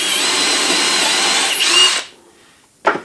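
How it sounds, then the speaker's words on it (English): A power drill bores a hole through a woodworking project assembly jig, a loud steady whine lasting about two seconds, then winding down, followed by a brief sharp knock near the end. "I'll drill the first hole."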